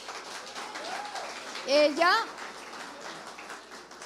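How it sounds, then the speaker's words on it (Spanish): Church audience applause in a Spanish-language service, a soft continuous patter of clapping under a voice that briefly speaks over it near the middle. "Le damos un aplauso."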